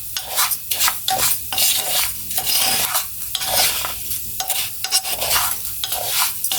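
Rice sizzles and fries in a pan for homemade Mexican rice while a utensil stirs and scrapes through it in repeated rhythmic strokes, loud and close, with a steady crackle of frying underneath.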